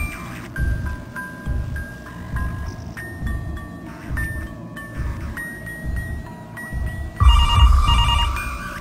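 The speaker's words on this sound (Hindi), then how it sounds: "फोन तो खुद ही बजाया, मैंने बजाया नहीं।" A phone rings inside the horror game Mr. Hopp's Playhouse, a repeating electronic ringtone in regular bursts over dark ambient rumble, growing louder near the end, with no talk.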